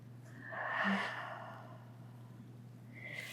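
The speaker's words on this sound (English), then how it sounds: "Big breath in." One deep audible inhalation during a morning Pilates stretch, a breathy rush close to the mic that swells and fades, followed by a softer breath near the end over a faint steady hum.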